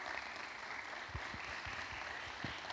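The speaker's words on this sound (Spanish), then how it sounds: "vamos a darle un fuerte aplauso" Audience applause at a talk in Puerto Rico about flying drones, steady clapping from a crowd that continues evenly for a few seconds, with several sharper individual claps standing out near the listener.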